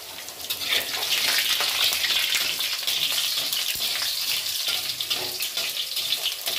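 Whole cardamom, cloves, cinnamon, a dried red chilli and cumin seeds fry in hot oil, giving a close, continuous sizzling and crackling hiss.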